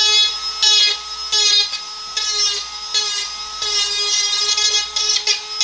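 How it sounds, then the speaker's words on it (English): A Dremel rotary tool grinds a chamfer onto the cut edge of a Rinnai Ubbink concentric vent pipe, a high whine broken by short scraping strokes and brief pauses, close and alone. "Now you want to take your Dremel and you want to give it a little bit of a chamfer."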